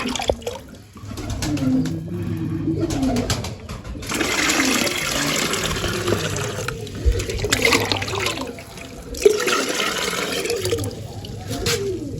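Fresh tap water pours in long gushing bursts, a broad rushing hiss that surges and pauses, while pigeons coo softly in the background.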